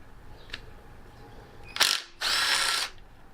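Long bolts come loose on a Pontiac 400 engine under a power tool, heard as a short whirring burst followed by a longer, louder buzzing run, up close and separated by brief quiet, with no voices.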